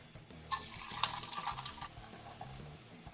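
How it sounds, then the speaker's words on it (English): Cubed firm tofu tumbles into olive oil heated to medium-high in a pan, giving quiet splashing and sizzling bursts over a low background hum, with no talking. "Let's go ahead and pour in our cubed tofu."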